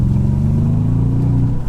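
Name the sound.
Audi S4 V8 engine revving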